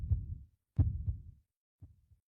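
Heartbeat sound effect with two thudding double beats, each a low lub-dub pair, followed by a fainter partial beat, clear and close with no talk.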